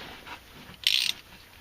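A short ratcheting click from a wrench working the 8mm Allen-head oil drain bolt under a jacked-up 2008-2010 VW Golf City 2.0, one brief, fairly close burst amid quiet.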